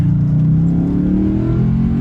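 An Audi B7 RS4's 4.2-litre V8 revs loudly and close, its deep rumbling note climbing steadily in pitch over a couple of seconds.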